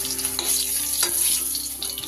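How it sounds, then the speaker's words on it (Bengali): Pieces of pointed gourd (potol), rubbed with salt and turmeric, fry in hot oil, giving a steady close sizzle with occasional crackles and stirring scrapes, without any talk. "পটলগুলো আমি লাল লাল করে ভেজে তুলে নেব"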